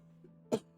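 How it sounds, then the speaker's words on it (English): A productive, wet cough: a faint catch, then two short bursts, the second louder, over a steady low hum. "It's a productive cough."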